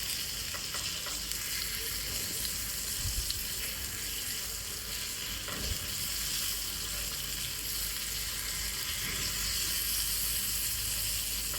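Bata fish frying in a pan, a steady sizzle of hot oil with a couple of soft knocks as pieces are turned over, fairly faint with no voices.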